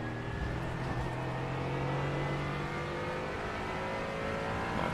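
A GT4 race car engine pulls hard out of a corner at Brands Hatch in the sim racing game iRacing, a steady close droning roar rising in pitch through the gears without a break.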